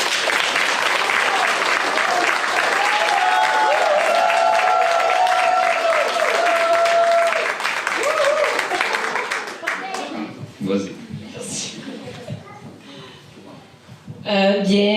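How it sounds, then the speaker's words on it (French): An audience gives a long round of steady applause at a community presentation, fading after about ten seconds as scattered voices and a speaker come in. "Et une bonne main d'applaudissements pour toi."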